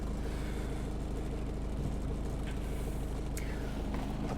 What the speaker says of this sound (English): why don't we fire this little guy up so you can hear the engine